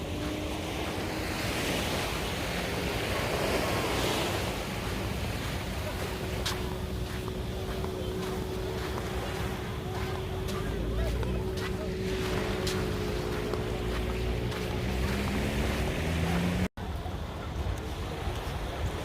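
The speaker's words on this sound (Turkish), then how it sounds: "Burada çok güzel deniz ve sahili var." Sea waves rolling onto Karon Beach in Phuket, a continuous roar of surf with wind buffeting the microphone and the low drone of a passing boat engine in the distance.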